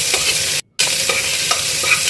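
Onions sautéing in oil with curry leaves and biryani spices, a loud continuous sizzle with scraping stirs, broken by one brief silent gap, no talk.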